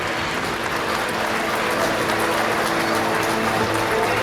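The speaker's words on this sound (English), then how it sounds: "I'd like to take an opportunity for everybody to give the caterer a round of applause." Dinner guests at a Robbie Burns dinner with a police pipe band give the caterer a steady round of applause, a dense, even wash of clapping that holds throughout without talk.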